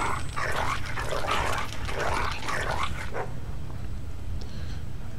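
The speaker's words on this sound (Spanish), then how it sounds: "El perro este azul, que parece que tenga piel de tiburón" A strange blue creature-like dog in a Game of Thrones video game barks and yelps in a few quick, close bursts over a low steady hum, then goes quiet with only faint background tones.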